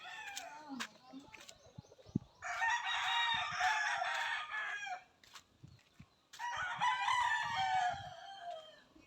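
Roosters crow in two long, loud calls close by, with softer clucking and scattered noises from young pullets and stags in between.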